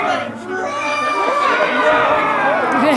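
An audience of children roars together like the Beast at a Disney World show in Magic Kingdom, a dense, loud, sustained crowd of young voices shouting and cheering for a few seconds.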